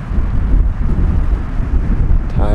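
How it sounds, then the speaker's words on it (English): Steady, buffeting wind rushes across the microphone throughout at a crowded mountain campsite above Sierra City, a loud low rumble with no clear pauses and no voices. "It's a bit windy."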